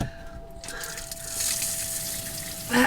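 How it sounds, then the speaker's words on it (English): Tap water runs while dye is rinsed out of bleached hair at a sink, a steady close gushing and splashing that grows louder midway and continues throughout. "Let's rinse this off."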